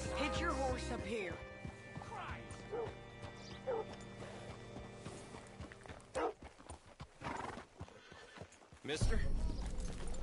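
Horse hooves clip-clop in Red Dead Redemption 2, scattered hoofbeats and a whinny around a hitching spot, with characters talking over the sounds.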